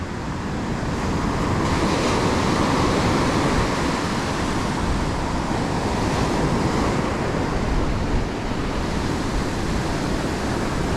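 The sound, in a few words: waves breaking onto the sand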